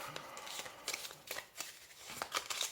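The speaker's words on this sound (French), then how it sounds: "Je vais tirer une dernière carte." A tarot card slid from the deck: soft papery shuffles and flicks, quiet and close, in a few brief bursts.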